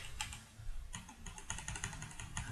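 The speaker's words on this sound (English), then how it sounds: "love that sound of mechanical keyboard tab slamming" A mechanical keyboard is typed on rapidly during a computer roguelike game session, with crisp clustered key clacks in quick bursts, a few heavier key slams, fairly quiet and close.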